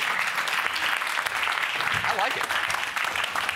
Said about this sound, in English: That's kind of a sympathy applause is what you got there, McLovin.